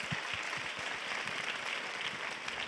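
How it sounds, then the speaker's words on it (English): An audience at a European youth event in Berlin gives a round of applause, a soft, steady patter of many hands clapping at a distance, fairly quiet and even throughout. "I think they deserve another round of applause."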